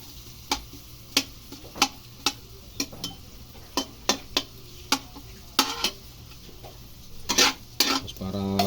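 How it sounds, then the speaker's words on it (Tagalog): Aromatics sautéing in cooking oil for a Filipino escabeche-style sauce, giving a steady low sizzle under repeated sharp clicks and taps of a utensil against the pan, close and moderately loud, with a louder burst of frying near the end. "Pinaparoma lang natin sa ating mantika"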